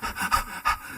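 A voice imitates a drowning person gasping for air, three quick, breathy, rasping gasps in close succession, near and fairly loud.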